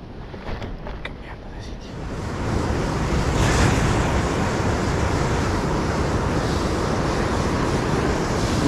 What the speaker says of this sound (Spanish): Lleno de olas.